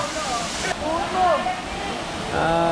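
Rushing water of Balagbag Falls at a beach resort and falls in Quezon, a steady broadband wash heard close with people speaking over it and a brief burst of rising voice near the end.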